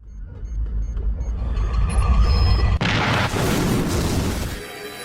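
A loud, sudden blast erupts over a rumbling low background, followed by a sustained roaring, crackling wash of noise that slowly fades.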